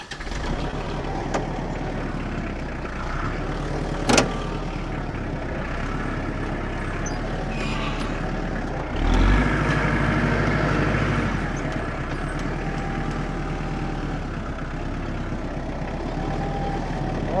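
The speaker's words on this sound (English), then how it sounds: "I'm using the tractor this time instead of the skid loader" A farm tractor engine idles and runs steadily at a constant low rumble for the whole stretch, swelling slightly midway, with no talking.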